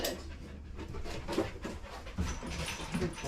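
A dog pants rapidly and steadily during a grooming session, close and fairly loud, with faint whimpers mixed in and no talk.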